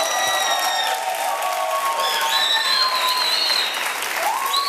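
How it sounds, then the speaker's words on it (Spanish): Studio audience of a TV talk show applauding in a sustained, fairly loud burst, with high whistle-like or musical tones gliding over the steady clapping. "Quiero darle las gracias a la audiencia por aplaudirme aunque no tuviera ganas"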